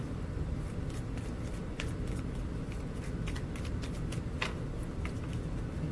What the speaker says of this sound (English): I did shuffle these, but I'm going to do this again.